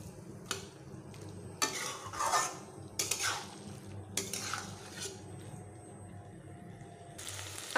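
Bottle gourd with mustard sautéed in a pan: bursts of scraping and stirring with spatula clatter against the pan over a soft sizzle, with quieter gaps between strokes.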